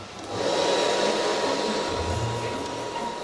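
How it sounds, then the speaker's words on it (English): A hair dryer switches on to dry cooked grain, a steady close whirring blow that rises quickly and holds at an even level. "So we'll just pop the dryer on now."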